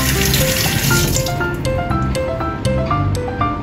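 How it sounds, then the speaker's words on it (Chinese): Tap water running and splashing over salted duck eggs as the leftover mud is rinsed off in a sink, a loud, close, continuous gush with bubbly, shifting trickles. "用水洗一洗剩余的泥就可以了。"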